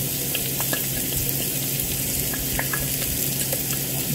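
Garlic and butter sizzle steadily in a frying pan, a dense continuous frying hiss with faint stirring scrapes and small pops throughout, close and even in level, no voices.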